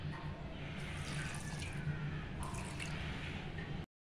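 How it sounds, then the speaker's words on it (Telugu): Water poured from a tap or container onto a cup of sugar for gulab jamun syrup, a steady close splashing and trickling flow that stops abruptly near the end, with no talking. "దీంట్లో కొన్ని వాటర్ వేస్తున్నాను"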